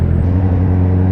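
Steady low road-traffic rumble from the saddle of a 2019 Honda CBR650R, a continuous engine drone close by with a faint whir above it, no talking.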